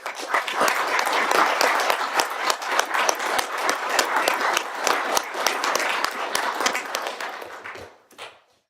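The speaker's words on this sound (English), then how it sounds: "Let's give them one more round of applause." Dense applause from a crowd at a regular meeting, steady and loud for several seconds, then tapering off into a few final claps.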